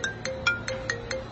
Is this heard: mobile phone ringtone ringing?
yes